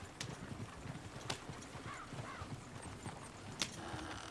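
Horse hooves clip-clop steadily in Red Dead Redemption 2, a quiet rhythmic patter of footfalls with a couple of brief sharp knocks and a faint whinny-like call partway through.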